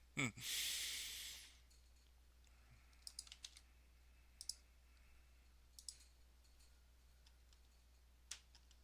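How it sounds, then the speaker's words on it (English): Fast typing on a computer keyboard, heard as sparse, sharp clicks scattered across the clip after a brief burst of louder noise at the start, fairly quiet overall. "typing faster than anyone"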